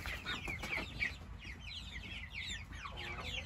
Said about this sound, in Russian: Здесь три курочки и два петушка.